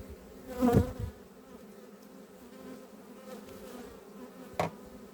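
Bees buzz faintly around beehives. A steady low drone carries throughout, with a couple of brief louder passes as single insects fly close by, and no voices.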